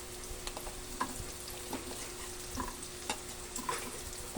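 Garlic sautéing in oil in a pan, a soft, quiet sizzle punctuated by intermittent scraping clicks of stirring, close and low in level.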